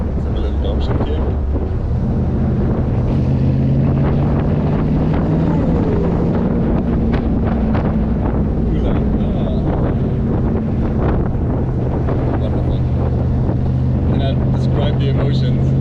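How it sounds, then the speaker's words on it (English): Austin Healey 3000 roadster with a V8 swap, driving in the south of France, its engine droning loud and steady with a rising and falling pitch through a downshift, with heavy wind buffeting over the whole stretch. "Oh, that sound! Woo! Let's have a little downshift here."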